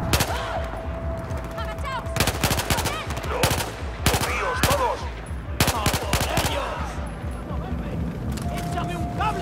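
Bursts of automatic gunfire and single shots from the video game Battlefield 4, set in Singapore, crackle in loud clusters over game ambience, with someone talking over the action.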